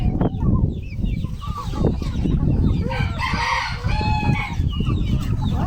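A large rooster crows loudly nearby while hens cluck busily around it, a farmyard flock being hand-fed mulberries, with brief background voices.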